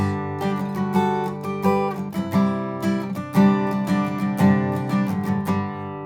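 Acoustic guitar strums a rhythmic chord pattern with quick repeated strokes, the chord voicing changing partway through, played alone and close.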